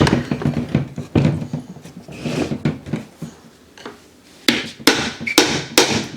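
A run of hammer taps on a front-wheel-drive gearbox during a limited-slip differential install, irregular strikes close by, some light and clustered, others sharper and ringing, with a short pause midway before louder hits resume.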